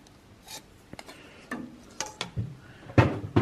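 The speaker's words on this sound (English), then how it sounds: "rub the chalk across the blades and" Tailor's chalk is rubbed across metal blades in a sharpening box, giving short, irregular scraping strokes that are close and fairly quiet, with a louder rasp near the end.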